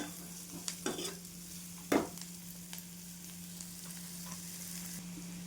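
Drumstick flowers stir-fry in a pan for a vegetable dish, giving a quiet steady sizzle under a low hum, with a few scraping stirring knocks near the start.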